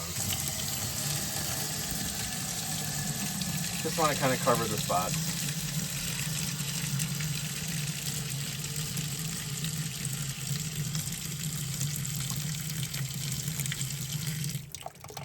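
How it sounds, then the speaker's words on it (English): Hot water is poured and mixed over a battery-damaged Mac IIfx logic board to soak it, a steady close running and splashing sound throughout, with someone speaking briefly over it. "I will mix in some hot water to make sure that it gets evenly spread around."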